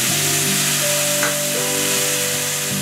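Tamarind water soaked from ripe tamarind hits a hot spice tempering in the pan for a hilsa-head dish, giving a loud, steady sizzle with a constant hiss and faint clatter, no voices.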